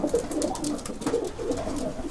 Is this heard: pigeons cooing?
yes